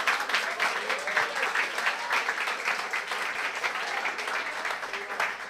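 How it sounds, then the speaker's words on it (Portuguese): Steady applause fills a church service, many hands clapping continuously and fairly loudly for several seconds with no talk over it. "Pode aplaudir ao Senhor."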